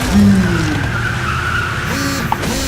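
A car skids with a long tire squeal and strikes a zombie in The Walking Dead video game, the loud screech starting at once and carrying on under engine noise and a faint voice, with a small thud near the end.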